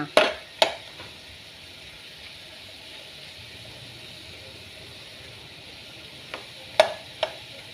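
Chinese sausage (kun chiang) fries in a pan without oil, giving a soft, low sizzle throughout, broken by a few sharp scrapes and knocks of stirring at the start and near the end.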